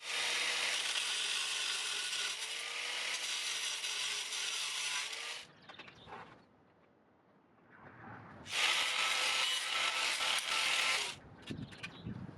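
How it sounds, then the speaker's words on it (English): An angle grinder cutting a 1/4-inch round steel rod, a loud bright whining grind in two long sustained passes separated by a brief quieter pause with lighter handling noise. "I decided to cut a pin from a piece of 1/4-inch round rod with an angle grinder"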